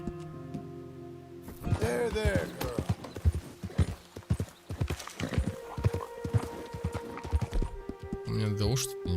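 Horse hooves gallop in Red Dead Redemption 2, with a rapid, continuous clip-clop close by and a neigh at one point, while someone talks over the hoofbeats.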